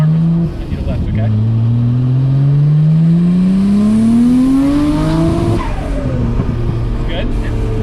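Nissan R34 GTR fitted with titanium intakes accelerating at about 80% throttle in second gear, a loud rising engine note climbing steadily for several seconds before easing off, with a voice briefly heard inside the car.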